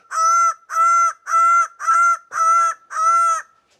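A bird of paradise calls loudly in six rhythmic honking bursts, each about half a second long, near and clear with no talk.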